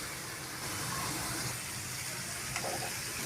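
Onions sauté in hot oil for a drumstick chicken gravy, producing a faint, steady hiss of frying that carries on evenly throughout without breaks.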